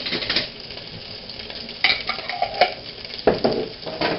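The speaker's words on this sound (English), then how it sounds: "To our melted butter, I'd like to add, let's go with 2 teaspoons of minced garlic." Minced jarred garlic frying in melted butter in a pan, a steady close sizzle with occasional utensil scrapes and clinks, no talking.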